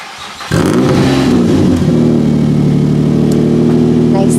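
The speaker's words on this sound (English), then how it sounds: "Nice sounding exhaust." A Nissan Maxima engine fires up and revs with a deep, throaty exhaust rumble, then settles into a loud, steady growl close by.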